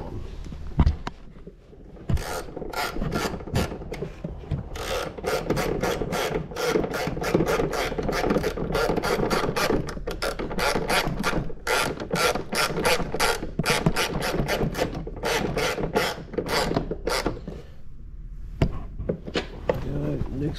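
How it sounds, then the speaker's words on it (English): A ratchet turns a long-threaded bolt on a 2022-or-later Kawasaki Ultra 310 jet ski during a cool air panel install, a loud close run of rapid clicking strokes repeated steadily for many seconds. "There's a really long thread for this one. It takes quite some time."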